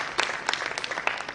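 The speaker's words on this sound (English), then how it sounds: "Can we give a round of applause?" A short burst of applause at a farm-focused presentation in Uganda, with a few distinct, sharp claps standing out over a thinner patter of hands.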